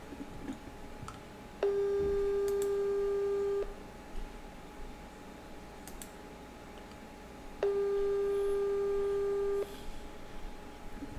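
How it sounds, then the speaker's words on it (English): A telephone ringback tone on an outgoing call waiting to be answered: two long, steady electronic tone bursts about six seconds apart, clear and moderately loud over a faint hiss. "hey, Mercy, pick your phone"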